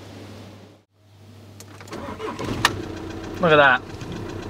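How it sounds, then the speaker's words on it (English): A car engine cranks briefly and catches on a GrePro GP383 jump starter, with a slight injector knock. It is a short, loud burst near the end, after people talk and handle things nearby. "And now we're gonna try and start up the car,"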